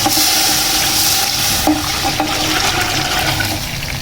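Chicken stock being poured into a pot for pulao, a continuous close rushing splash of liquid lasting about four seconds with small clinks partway through.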